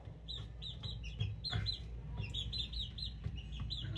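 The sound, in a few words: chicks and gamefowl clucking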